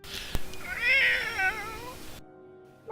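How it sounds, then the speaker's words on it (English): A pet cat right beside a person gives one drawn-out, wavering meow, close and fairly loud, after a sharp click, then the room drops to near silence. "I have a cat sitting next to me wanting to be petted"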